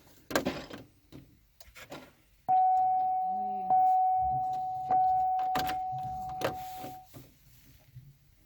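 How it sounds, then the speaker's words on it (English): A 2005 Impala with the key turned to on primes its fuel pump, a steady electric whine running for several seconds and swelling twice, with brief clicks and thumps around it. "take the key, turn it to the on position, and that primes the fuel pump"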